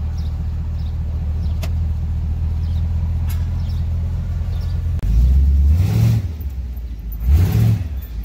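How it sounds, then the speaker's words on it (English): A 1947 Chevy lowrider on hydraulics crawls through traffic, its engine idling with a steady low rumble before two loud revs surge up and fall back, close and alone with no talk. "Braking, stopping, gassing is all good."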